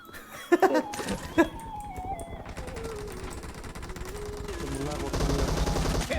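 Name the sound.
gunfire from a bot in video game PUBG Mobile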